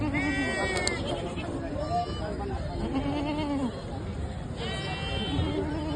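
Goats and young goat kids bleating at a large Maharashtra goat, sheep and poultry market, repeated wavering bleats from several animals, some near and loud, over a busy background of people talking.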